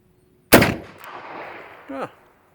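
A single loud, close gunshot from a Carcano 6.5x52 carbine rifle cracks sharply and echoes away, followed by a brief voice exclamation as the echo fades.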